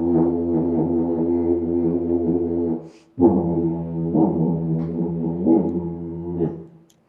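Folk string instrument with a wire pulled through a hollow pot, sounding two sustained twangy phrases with gliding, bending pitch, split by a brief silence, played loud and close with no talk.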